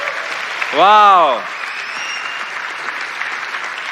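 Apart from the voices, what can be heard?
applause from conference audience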